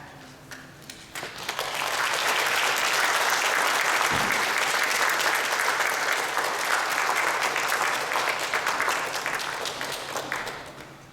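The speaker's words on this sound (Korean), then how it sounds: "우리 목사님이 나오실 때 큰 박수로 환영해 주시기 바랍니다" An audience at a Korean church missions dedication service claps loudly and steadily for a pastor coming to the stage, the applause building quickly, holding for several seconds and then tapering slightly.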